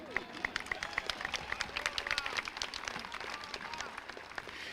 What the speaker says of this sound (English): You can clap, it's okay.